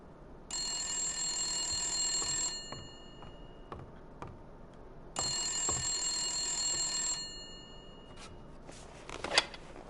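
A telephone rings in the noir video game Blacksad, two long bright electric ring bursts separated by a pause, with faint clicks and ticking in the background and no talking.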